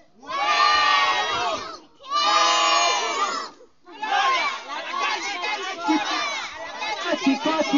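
A crowd of students shouts the Politécnico (IPN) school cheer in unison, with two loud, sustained group bursts followed by a longer, rhythmic chant of overlapping voices, close and energetic.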